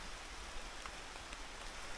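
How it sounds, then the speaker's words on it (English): Rain falls steadily in a Fijian village, a soft, even hiss of drops on surfaces with faint scattered patters, no voices. "Now it's raining."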